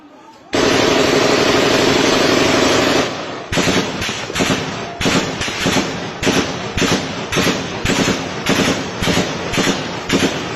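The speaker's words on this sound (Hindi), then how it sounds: "उसके अंदर आपको बाकायदा गोली चलने की आवाज़ सुनाई देगी" Gunfire in eyewitness footage played back, a long continuous burst of rapid automatic fire followed by repeated shorter loud bursts in an irregular rhythm, with voices talking beneath the shooting.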